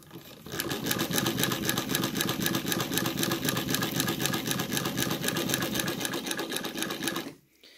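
A Cornely chain stitch embroidery machine runs steadily as it stitches an outline into a denim jacket backed with tearaway stabilizer, giving a loud, continuous rapid mechanical clatter close by for about seven seconds before stopping abruptly.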